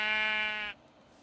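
A single sheep bleat from the video game Minecraft, one loud, clear, wavering call lasting under a second that cuts off sharply, followed by quiet.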